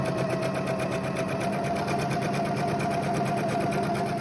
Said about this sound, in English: you're going to do a zigzag stitch on the outer edge of your first seam